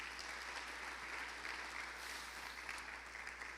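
A church congregation applauds together, a dense, even wash of clapping held at moderate distance throughout with no voice over it.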